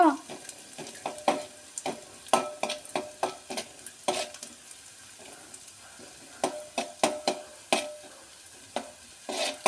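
Ginger fries quickly in a pan as a base for soup, a faint sizzle under repeated sharp scrapes and taps of a spatula stirring against the pan in an irregular rhythm.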